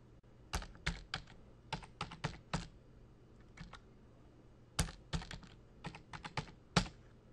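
A username typed on a computer keyboard: two quick runs of crisp, close key clicks separated by a short pause, fairly quiet with no talking.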